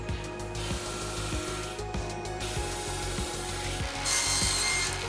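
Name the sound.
wood sander sanding boards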